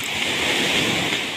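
Waves breaking on a city beach in Ketapang, heard as a steady, loud wash of surf and wind noise with no voices.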